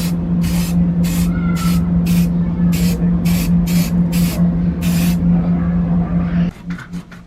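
Aerosol primer sprayed onto TIE Fighter diorama parts from an AMT ERTL model kit, ten short hissing bursts in a steady rhythm over a constant low hum, close and loud, then a few quick clicks at the end.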